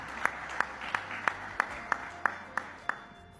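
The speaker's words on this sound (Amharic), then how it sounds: "ጭብጨባ" Steady, evenly spaced claps, about ten in a row at a brisk beat, fairly quiet, marking applause at a gathering about 207 children treated by volunteer doctors.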